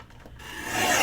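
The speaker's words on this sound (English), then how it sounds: "I do need to go ahead and trim these edges straight" Scissors or a rotary blade trimming fabric scrap edges straight for a sewing project, a soft rasping cut that swells louder toward the end, close and alone.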